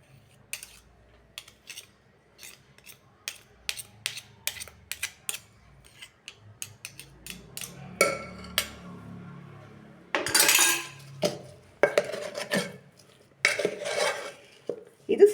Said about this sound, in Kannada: ಇದನ್ನೆಲ್ಲ ಈಗ ನೀಟಾಗಿ ಮಿಕ್ಸ್ ಮಾಡ್ಕೊಳ್ಳೋಣ